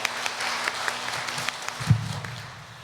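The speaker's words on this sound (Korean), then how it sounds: "하나님께 영광 박수 올려드리겠습니다" A church congregation applauds during a Sunday worship service, a moderate wash of many clapping hands over a low sustained hum, with a brief bump near the end as it fades.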